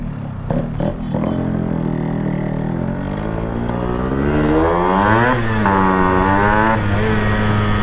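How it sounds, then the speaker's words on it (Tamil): A Yamaha RX 135 five-speed motorcycle engine idles with a few sharp blips, then revs up strongly and holds a loud, buzzy high-pitched drone with small surges. It sounds close and plays alone, without talking. "ஆர்எக்ஸோட சவுண்டே தனி சவுண்டு தான்."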